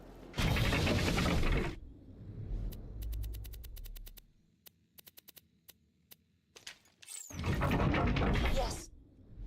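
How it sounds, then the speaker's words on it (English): A grinder machine in a video game on Pandora clanks and ratchets as shields are dropped into it, sending out a rapid series of sharp mechanical clicks between bursts of speech. "Just drop whatever shields you no longer want into the grinder."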